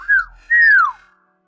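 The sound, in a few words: whistling through a voice changer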